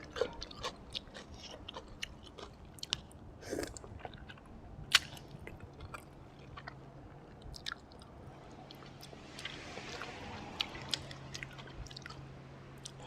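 Close, quiet, wet chewing and biting of a spicy, soft-boiled chicken feet salad with fermented fish sauce, with irregular smacks and soft crunches repeating throughout and no talking.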